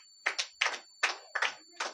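A small group of children clap in rhythmic clusters at a vacation Bible school prize distribution, five close, crisp bursts spaced evenly apart, each a double clap, with a faint constant high tone behind.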